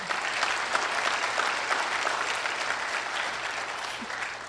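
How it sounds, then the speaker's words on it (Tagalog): A congregation at a Tagalog preaching service claps gently, a continuous even wash of many hands at moderate distance, steady throughout with only slight dips and no speech on top. "Mahinang pumalakpak ang mga tao rin."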